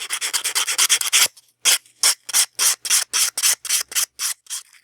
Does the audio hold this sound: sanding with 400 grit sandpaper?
yes